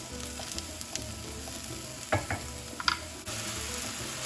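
Onions frying in a pan for a Cinco de Mayo vegan feast give a steady close sizzle, broken by a few sharp clacks and stirring knocks, with no talking.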